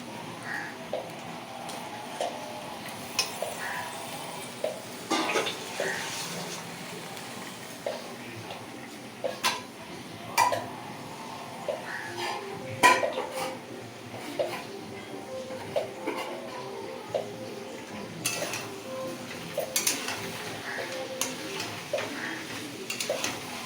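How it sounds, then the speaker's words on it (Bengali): Chicken pieces stir-fried with spices in a pan, soft sizzling under intermittent spatula scrapes and taps against the pan, close and moderately quiet. "এবার মাংসগুলো দিয়ে মশলার সঙ্গে কষতে হবে।"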